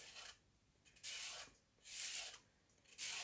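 Grated carrots for gajar ka halwa are rinsed with water in three separate bursts of hissing spray, each lasting about half a second, with quiet gaps between them.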